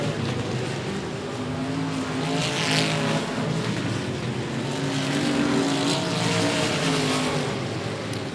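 Race cars lapping at 105 Speedway, a continuous loud roar of engines with swelling passes and droning exhaust tones across the whole stretch.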